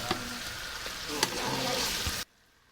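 Tomatoes tipped into a pan of sizzling whole cumin, chicken and garlic-ginger-green-chilli paste, frying loudly with a steady hiss and a few stirring clinks for about two seconds before cutting off abruptly.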